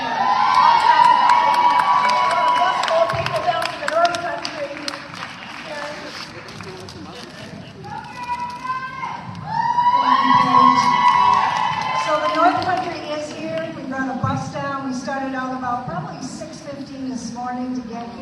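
Large crowd at a Family Empowerment Day rally in Albany cheering, whooping and shouting, loud and sustained with swelling bursts and voices mixed in throughout.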